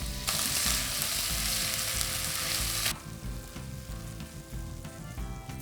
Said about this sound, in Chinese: 锅里放菜籽油，下鸡丁炒熟